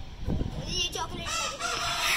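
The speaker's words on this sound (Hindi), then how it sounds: "यहाँ पे हमारी गोल्डन से बैठ गई मुर्गी" Hens at a home vlog setting give short, close clucks and squawks, with background voices and bits of talking mixed in.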